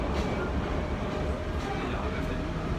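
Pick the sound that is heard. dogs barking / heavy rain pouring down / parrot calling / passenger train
passenger train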